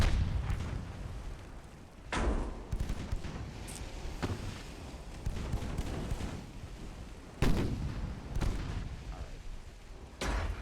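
Naval guns fire at light cruisers in the video game Ultimate Admiral Dreadnoughts, with repeated irregular booming shots, some distant and muffled, a few sharper and louder, over a low rumbling background, with no talk.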